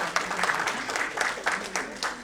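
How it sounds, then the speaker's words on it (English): Audience at an annual day award ceremony for psychiatry applauds an honoree, moderate steady clapping from a hall crowd with some scattered louder claps. "Please give us a loud applause."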